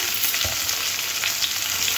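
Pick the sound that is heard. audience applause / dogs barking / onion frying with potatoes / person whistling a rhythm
onion frying with potatoes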